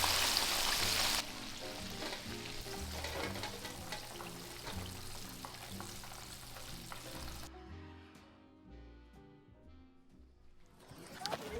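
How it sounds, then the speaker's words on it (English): Crispy fried chicken sizzles steadily in hot oil, a dense continuous crackle that carries loud and close, then eases to a softer, sparser fizz toward the end, with soft background music underneath throughout. "the sound of crispy fried chicken sizzling away"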